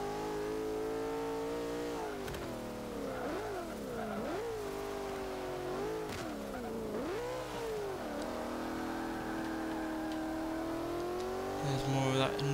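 The engine of a 2000 BMW Z8 in Forza 5 revs and shifts repeatedly, with the pitch climbing and dropping through several gear changes while someone talks over it.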